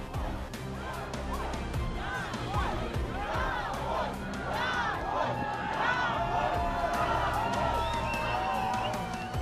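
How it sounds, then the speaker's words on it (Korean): Over two hundred citizens shout together at an anti-Russian protest in occupied Kherson, a dense crowd roar of overlapping voices, calls and whoops filling the scene continuously. "200명이 넘는 시민들이 시위에 참가해서 한 목소리를 냈습니다"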